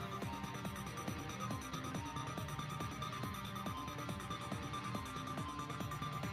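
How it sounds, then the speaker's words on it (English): Round timer in a board or video game, sharp electronic beeps repeating at a regular quick pace over a steady hum of background music, no talking. "You can start to hear the timer beep at this point."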